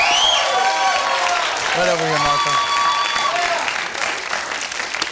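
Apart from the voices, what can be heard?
studio audience applause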